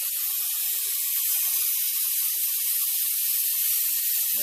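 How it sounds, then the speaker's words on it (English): A Mighty Vac oil extractor running on an air compressor, giving a loud, steady, continuous hiss of rushing air that holds unchanged throughout. "So I just got my little Mighty Vac thing here, hooked to my air compressor. Just turn it on."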